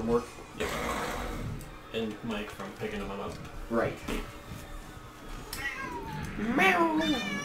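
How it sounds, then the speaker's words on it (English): A cat meows several times in a video game, short rising cries with strong harmonics at the end of the stretch, heard under and between steady conversation from people talking over it. "Meow! Meow! And the cat has returned."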